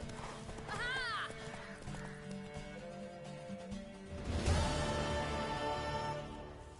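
Horse hooves in the video game Witcher 3 during a race, clip-clopping under game music with a neigh early on and a louder burst of activity midway.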